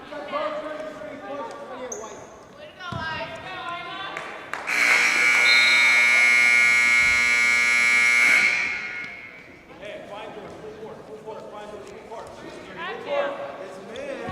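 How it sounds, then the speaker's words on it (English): A long, loud electronic buzzer blares for several seconds, cutting through voices and arena noise before it stops and the talking resumes. "Buzzer sounding right there."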